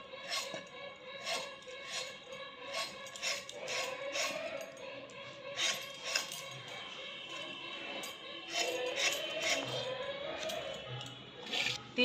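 A pointed gourd (potol) having its skin scraped with a knife: soft, repeated rasping strokes in an uneven rhythm, faint and close, with no talking.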